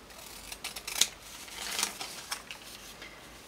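Scissors cut through paper for a handmade envelope, with two crisp, distinct snips close by and faint handling noise between them.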